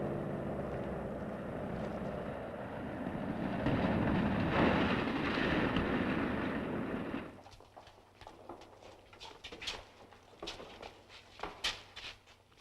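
Airplane coming in to land behind a hangar in a 1937 serial, a loud sustained engine roar that swells and then cuts off abruptly, followed by faint scattered clicks and knocks.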